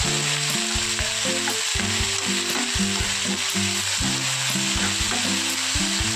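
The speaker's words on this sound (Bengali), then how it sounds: "আলু পেঁয়াজটা একটু ভেজে নেব" Potatoes and onions with green chilli and salt fry in a pan, giving a loud, constant, close sizzle with an even tonal melody running underneath and no talking.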